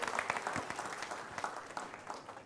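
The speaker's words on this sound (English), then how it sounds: "why don't we give a big round of applause to the MAHRP for arranging this wonderful event" An audience at the MAHRP National Convention & Expo 2022 applauds, giving a soft, fairly distant wash of many hands clapping with small uneven swells.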